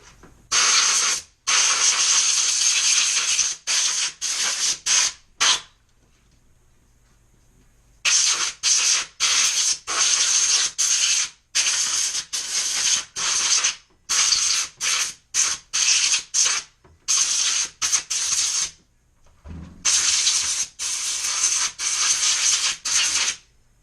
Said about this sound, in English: I like to clean around 60 to 85 PSI is where I find the most benefit from compressed air